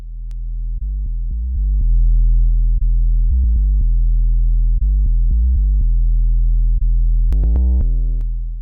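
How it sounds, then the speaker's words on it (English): A monophonic synth bass with added saturation built in Ableton for a tech house or deep house bassline plays a steady, continuous low line of short stepped notes, clean and alone, with a brief higher run near the end. "now we got a bass that's just playing all the time"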